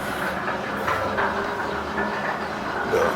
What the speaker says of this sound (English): You can hear the carts being towed up